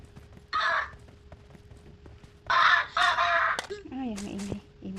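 A noisy bird gives harsh, crow-like calls in two loud bursts, with a person speaking in between.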